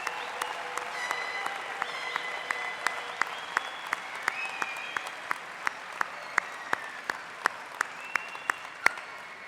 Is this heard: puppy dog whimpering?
no